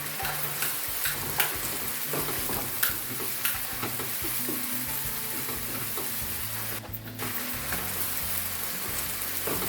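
Chicken frying in a pan, a dense steady sizzle and crackle with occasional stirring ticks, close and continuous throughout, no voices.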